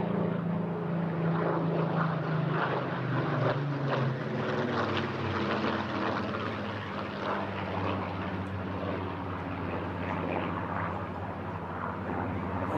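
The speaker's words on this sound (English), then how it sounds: "PS-853, an unarmed high-altitude reconnaissance aircraft, one of a batch of 79 Mark 19s built by Supermarine along the coast of Southampton." A Supermarine Spitfire Mark 19 reconnaissance aircraft with a Rolls-Royce Merlin engine flying at an airshow in Eastbourne, a loud, continuous piston-engine drone with a droning tone that eases slightly as it passes.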